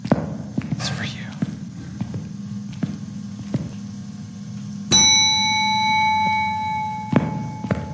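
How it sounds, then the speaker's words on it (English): A bell in the Phasmophobia ghost-hunting game rings out sharply at about five seconds and decays with a long shimmering tone, over a steady low room hum with faint whispering and small clicks. "Apparently, if you put the bell in the room, it rings the bell."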